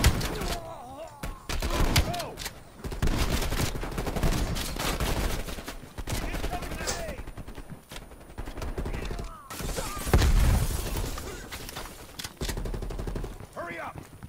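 Shotgun fire in a Call of Duty: Black Ops Cold War multiplayer match, repeated loud blasts mixed with other gunfire and thuds, with players talking over the action throughout.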